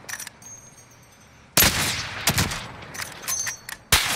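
Video game gunfire erupts suddenly after a quiet moment, several close sharp shots and a short burst cracking in quick succession, then a final loud report.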